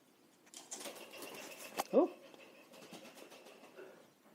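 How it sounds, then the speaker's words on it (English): Pigeons overhead give off a short burst of wing flutter and a throaty call, faint and brief in a quiet space, then the air settles back to near silence. "I've got pigeons above my head."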